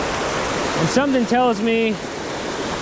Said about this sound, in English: we made it up to this beautiful little waterfall with a bigger one up there